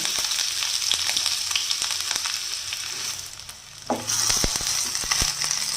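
Chopped onion frying in hot oil with dried chilli and fennel seeds for a shredded chicken fry. A loud, steady sizzle dips briefly, then surges again with crackling pops close by.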